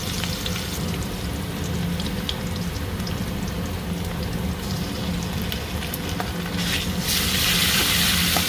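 Cumin and onion sizzle steadily in hot oil in a pan, with a dense crackling hiss that carries on without a break and grows a little louder toward the end.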